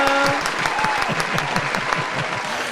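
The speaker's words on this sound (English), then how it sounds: "Thunderous applause, Lenny, put that in." Applause sound effect greeting a guest on a talk show, a short burst of dense crowd clapping that holds at a steady level.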